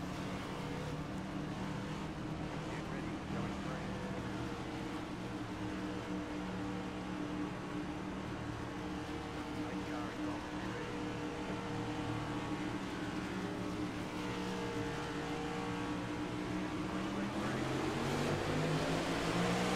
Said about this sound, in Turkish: Kamyon seslerinin ardında başladık oyuna tekrardan.